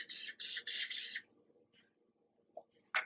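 Four quick hisses of aerosol cooking spray onto the sides of a baking tin in close succession, loud and near, followed by quiet and a couple of small clicks.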